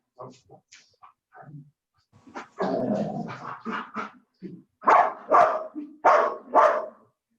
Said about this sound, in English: when they hear the dog bark, they don't like that